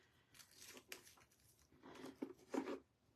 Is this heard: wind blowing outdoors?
no